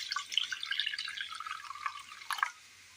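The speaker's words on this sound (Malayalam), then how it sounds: "പാല് തേങ്ങയിൽ നിന്ന് പിഴിഞ്ഞെടുത്തതിന് ശേഷം ഒരു ബൗളിലേക്ക് ഒഴിച്ചു കൊടുക്കാം" Freshly squeezed coconut milk pours into a bowl in a Kerala kitchen, a short close liquid trickle and splash lasting a couple of seconds before it stops.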